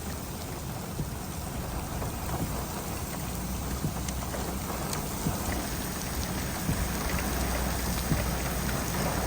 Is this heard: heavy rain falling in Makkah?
yes